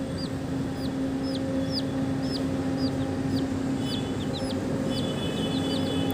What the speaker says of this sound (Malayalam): ഒരു ഓറഞ്ച് കോഴിക്കുട്ടി.